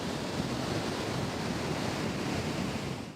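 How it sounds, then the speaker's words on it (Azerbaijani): Wind-driven waves wash onto a sea beach in blustery weather, a steady close roar of surf and rushing air with no voices. "hazırda dəniz sahilində kifayət qədər külək var, kifayət qədər dalğa var"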